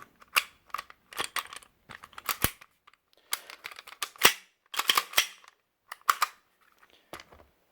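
An FN FNX-45 airsoft pistol is put back together with a series of sharp, close plastic-and-metal clicks and snaps. The clicks come in irregular bursts with short quiet gaps between them.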